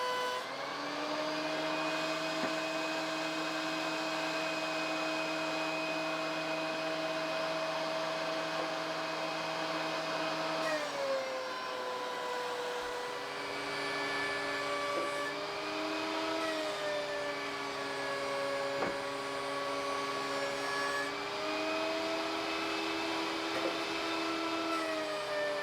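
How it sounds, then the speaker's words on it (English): Thickness planer running steadily as it planes the faces of massive pallet-wood 4x4 posts, a loud continuous motor whine that shifts pitch midway as a board feeds through, with no talking. "On the planer, I plane the opposite sides, then make them all the same size."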